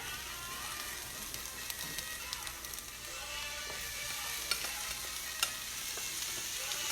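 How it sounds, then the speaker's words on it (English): Bacon and onion mixture goes into okra frying in a skillet, giving a steady close sizzle with light stirring and a few soft scrapes throughout, no voices. "Okay, my okra is soft, so what I'm going to do next is I'm going to add my bacon and onion mixture."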